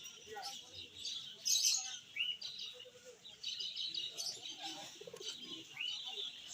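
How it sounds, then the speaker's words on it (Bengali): Faint chirps and soft coos from pigeons at an outdoor pigeon market, scattered calls rising and falling in a quiet backdrop, with muffled voices nearby. "নিচের কবুতরগুলো দেখুন গাইস, কি সুন্দর দেখতে সব।"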